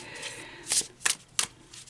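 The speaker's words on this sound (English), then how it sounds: "we're going to take a shuffle and find out which card wants to give you a message today" Tarot cards being shuffled in three quick crisp bursts of riffling, close and clear over a quiet room.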